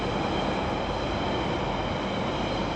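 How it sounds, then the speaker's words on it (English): A train pulling out of a station platform at night, a steady loud rumble of wheels and carriages rolling past close by, with no voices. "Yeah, there's a train just come out."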